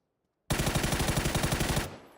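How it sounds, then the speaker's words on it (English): A PUBG automatic weapon fires a fast, loud burst of roughly fourteen evenly spaced shots that start abruptly out of silence, then stop sharply and leave a short echoing tail. "Can I shoot through here?"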